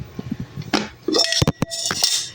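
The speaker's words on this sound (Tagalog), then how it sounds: "nilagyan ko na siya ng apoy at isasalang na natin ang caldero" A metal cooking pot (caldero) holding corn is set down over an open fire, giving several sharp, close clanks and scraping clinks in quick succession.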